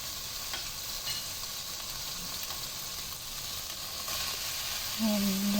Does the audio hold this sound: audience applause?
no